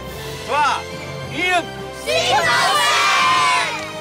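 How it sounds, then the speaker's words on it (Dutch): A studio audience at a Frisian word-game show cheers and shouts, with a couple of rising 'yo' calls followed by a sustained burst of crowd cheering close by. "Applaus voor Rebecca."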